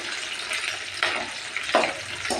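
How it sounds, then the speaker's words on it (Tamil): Curry leaves hit hot oil for an egg curry and are stirred in the pan, a close crackling sizzle with a few sharp scrapes and spits. "கருவேப்பிலை போட்டு லைட்டாக மிக்ஸ் பண்ணி விட்டுக்கலாம்"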